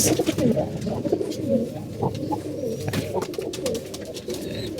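Several pigeons coo close by in soft, overlapping, throaty phrases that repeat continuously, mixed with a few faint chirps.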